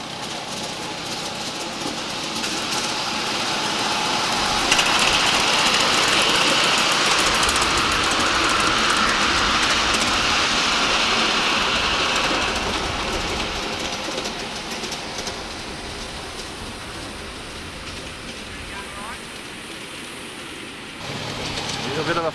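A train rolls along the track at Narara near Gosford in 1994, a steady rumbling run that swells in the middle and then eases, while people talk over it.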